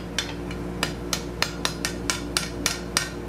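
Hand hammer striking hot metal scroll work over a no-weld scroll bending jig, about a dozen sharp ringing blows in a steady, slightly uneven rhythm, close and clear over a low steady background hum.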